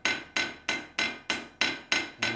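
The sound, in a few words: hammer blows forging a knife edge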